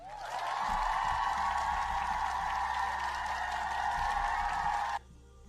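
Cheering and applause sound effect: a dense, steady crowd cheer with clapping holds at an even level for about five seconds and then cuts off abruptly.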